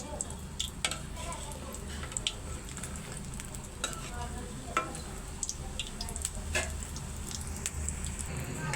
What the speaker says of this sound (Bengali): তো আমি এখন ভেজে নেব। তো আমি একটা একটা করে ভেজে নেব।